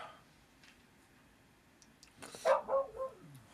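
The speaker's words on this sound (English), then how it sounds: "My dog is barking" A pet dog barks somewhere in the house, a few short faint barks at a distance under quiet game ambience, with no one talking.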